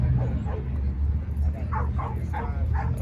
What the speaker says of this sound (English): Oh, somebody got a dog out here.